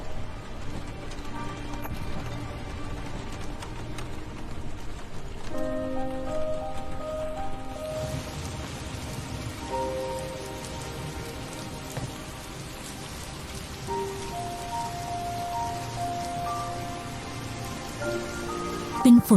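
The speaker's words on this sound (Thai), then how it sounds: "เป็นฝนที่มาได้ทันเวลา" Steady rain falls and patters on surfaces for a long stretch, a dense even hiss with soft drops, heard alone.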